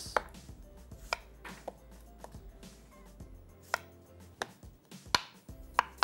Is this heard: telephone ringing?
no